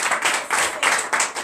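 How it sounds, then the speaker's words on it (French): A congregation at a morning prayer service claps to acclaim the Lord, rhythmic group clapping in a steady beat of roughly one clap per quarter second, close and fairly loud. "Donnez de vives acclamations au Seigneur."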